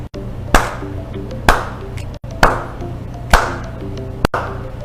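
Five sharp hand claps spaced roughly a second apart, crisp and close, as part of a counting lesson for first graders, with a steady low background hum beneath and no talking.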